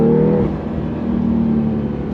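A 2025 Porsche 911 Carrera T sports car accelerating hard on throttle, its engine note rising loud and close in one sustained, climbing pull with no talk over it.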